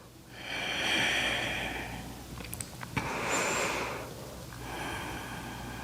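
Slow, audible yoga breathing during a vinyasa flow: a long hissing inhale, a pause, then a forceful exhale through the nose, recorded close and repeated in an even rhythm.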